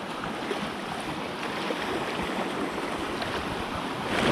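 Big waves breaking on a shore lined with large rocks, a steady, loud wash of surf with some wind noise, rising slightly at the end, with no talking.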